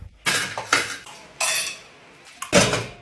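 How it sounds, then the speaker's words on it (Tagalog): Dishes and plates being washed, with several bursts of clattering ceramic and cutlery clinks separated by brief pauses, close and fairly loud. "Hans, maghugas ka muna ng plato doon."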